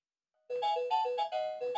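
A phone rings nearby, a short melodic electronic ringtone of bright repeating notes that starts abruptly after silence and plays clearly on its own.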